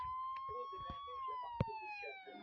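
Police car sirens wail in the video game Car Simulator, a steady electronic tone held under light thumps and game noise, with one sharp impact partway through.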